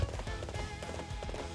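Horse hooves clip-clop in the video game Hyrule Warriors, a quick run of soft rhythmic hoofbeats over a faint music bed, fairly quiet and with no talking.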